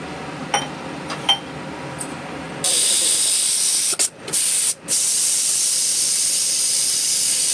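A pressure cooker holding mutton keema, just switched off on a stove, lets out a steady, loud hiss of escaping steam that begins abruptly partway through, drops out briefly twice, and is preceded by a few soft clicks.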